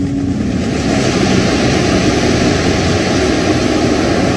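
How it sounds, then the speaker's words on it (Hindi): Steady roar of ocean surf rolling onto the shore near a seaside temple, loud and continuous with a broad wash of noise and some wind rumble, no voices. "कहते हैं कि समुद्र की लहरों की आवाजें इस मंदिर के अंदर शांत हो जाती हैं"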